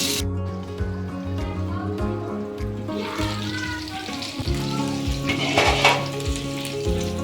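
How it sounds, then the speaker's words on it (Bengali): Food frying in a frying pan: a close, continuous sizzle with crackling bursts and occasional clinks of the pan, swelling a bit louder midway, with a faint voice at times. "আর ফ্রাই প্যানে এভাবে ভাজলে কখনো পুড়ে যায় না,"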